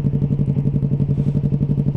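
A Yamaha MT-03 motorcycle with a straight exhaust pipe idles close by, its loud, rapid, even exhaust pulses throbbing steadily throughout.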